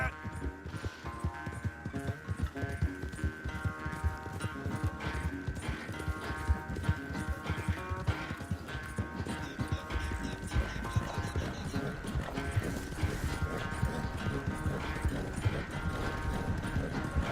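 Horse hooves clip-clop steadily in the video game Red Dead Redemption 2, a continuous rhythmic trot beneath game music and ambient sound throughout.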